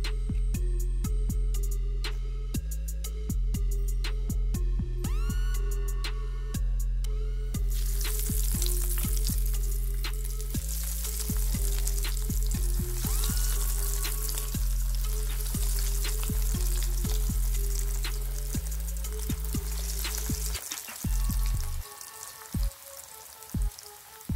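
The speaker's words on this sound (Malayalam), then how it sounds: "നമുക്കിത് ഓയിലിട്ട് ഫ്രൈ ചെയ്തെടുക്കാം." Chicken nuggets deep-frying in hot oil, a dense, steady close sizzle with crackling pops that erupts after a few seconds of quieter bubbling and continues for the rest of the clip, with no talk.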